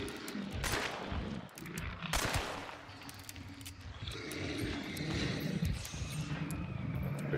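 Repeated gunshots fire in a hard-mode Stillwater Bayou trial, sharp bursts over a dense, noisy game background with growls and effects.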